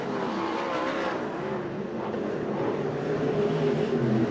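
USAC/CRA sprint cars race around the Bakersfield track, a loud continuous engine roar with rising and falling pitch as cars pass close by, heard alone without commentary.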